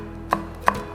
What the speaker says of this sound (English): When you get it right, slice it small.